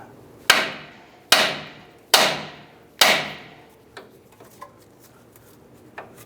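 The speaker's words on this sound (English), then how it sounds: "We're going to go ahead and strike the end of the knuckle. That should pop the tie rod end out." A hammer strikes the end of the steering knuckle on a 2004-2012 Chevy Colorado to pop the outer tie rod end loose: four loud, ringing metallic blows about a second apart, then a few lighter taps and small clinks.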